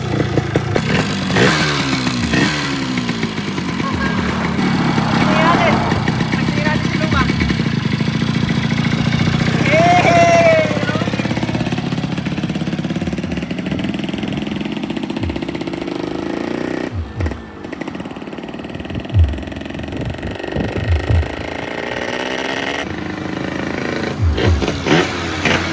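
A Yamaha RXT135 motorcycle, freshly restored, starts and revs: a steady mid-pitched engine drone runs throughout with rising and falling rev swells, some clatter, and a few dips and bursts near the end.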